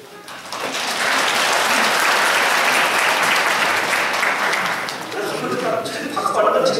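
An audience at a church revival meeting at a fasting prayer retreat claps together, rising into loud sustained applause that thins toward the end as voices come through.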